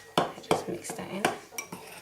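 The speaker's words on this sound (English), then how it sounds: "Just mix that in." Flour, salt, baking powder and cocoa powder being stirred together in a bowl for dairy-free chocolate raisin cookies, with four or five quick clinks and scrapes of a utensil against the bowl, close and fairly soft.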